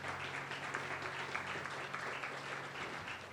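A church congregation stands and claps together as an offering of applause, a soft, steady wash of many hands heard from a distance.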